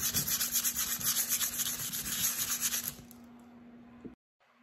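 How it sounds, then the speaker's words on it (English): Sandpaper of 100 grit rubs back and forth over cured resin in quick, even scratchy strokes for about three seconds, then stops with a faint final scrape, close up and with no talk. "So we sand the whole thing."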